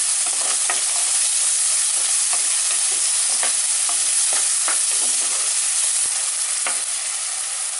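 Onion and garlic sauté in a clay pot, giving a steady sizzle with frequent scraping stirs of a spoon, close and continuous.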